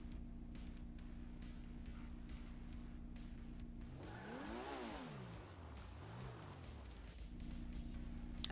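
Video game car engine revving up and down over a steady background hum, with one pronounced rising and falling rev in the middle, fairly faint overall.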